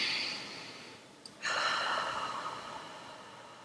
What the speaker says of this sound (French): Prenez une grande respiration.